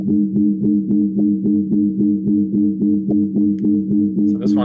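Sonified light curve of a pulsating binary star: a steady low droning tone that throbs in a regular pulse roughly every third of a second, with faint higher blips toward the end.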